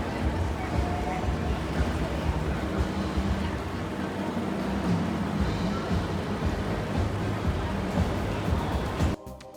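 A tour boat on the Singapore River at night, heading toward Marina Bay past Boat Quay, churns along with a steady engine rumble and rushing water, with faint murmuring voices mixed in before an abrupt stop.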